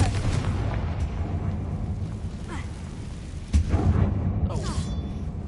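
A fiery Confringo spell blast in Hogwarts Legacy booms abruptly, loud and close, after a stretch of rumbling game ambience, followed by a short burst of crackling noise as it fades.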